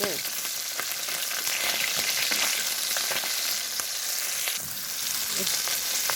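Fish, including bata and a pangas, frying in a kadai: steady bright sizzle filling the whole clip, with occasional pops and crackles and no talking.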